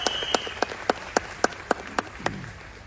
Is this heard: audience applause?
yes